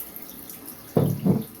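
A tap runs water into a sink, heard as two short close bursts of gushing flow, the second slightly shorter, with a quiet room hiss between them.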